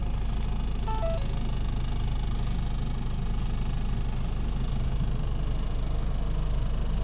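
A low-mileage Ford Nugget camper van runs at a steady idle after starting, with a constant low engine drone and some faint rattling throughout.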